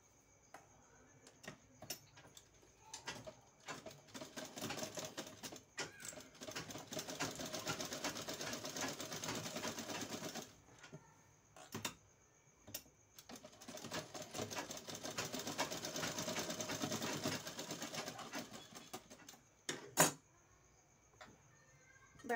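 Domestic sewing machine stitching tucks into a blouse cup (katori) piece, with two long bursts of rapid, steady motor-driven stitching separated by short pauses and a few isolated clicks, heard alone without talk.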